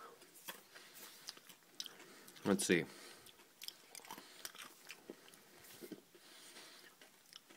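Crunchy candy-shelled chocolate, Smarties or M&M's, is bitten and chewed close to the mouth, with a loud crunch burst in the middle surrounded by quieter wet chewing and small mouth sounds, and a brief spoken remark early on.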